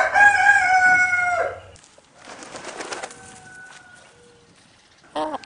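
A big, heavy breeding rooster crows loudly up close in a long cock-a-doodle-doo, followed by quieter clucks and hen murmurs, then a short sharp squawk at the end.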